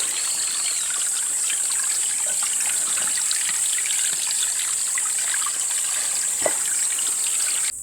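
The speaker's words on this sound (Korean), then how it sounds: "마침 바로 옆에 물이 흐르는 작은 골이 있어서 물에 담가 두었습니다." Water trickles steadily through a small hillside channel outdoors, a continuous close babble with a faint high hiss above it and no voices.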